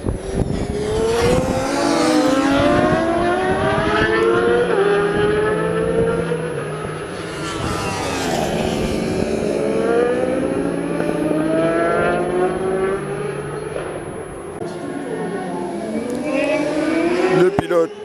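Racing motorcycles in the Spa-Francorchamps six-hour endurance race brake and accelerate through the chicane just before the finish line. Loud, overlapping engine whines rise and fall continuously as the bikes sweep past.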